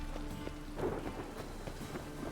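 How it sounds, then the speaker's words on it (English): Steady rain and rolling thunder from a stormy scene in the video game The Witcher 3, a continuous hiss of rainfall with low rumbles, fairly quiet and without any voices. "Must like the rain, that one."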